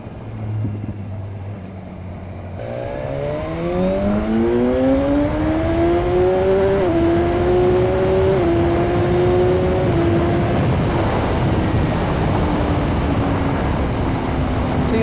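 BMW S1000R motorcycle accelerating at full throttle in second gear, a loud engine note climbing steadily in pitch for several seconds over heavy wind rush, then leveling off and easing down.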